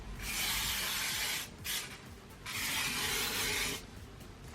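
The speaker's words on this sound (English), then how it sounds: "I'm just going to hairspray it one more time" Hairspray misted over curled hair in two long, steady aerosol hisses of roughly a second each, close and fairly loud, with a short faint puff between them.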